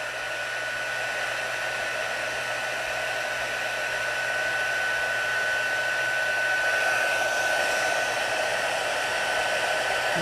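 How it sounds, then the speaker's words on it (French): A heat gun for embossing roars with a steady, loud airflow hum that stays constant for about ten seconds, close by with no talking. "Je fais chauffer un peu mon pistolet."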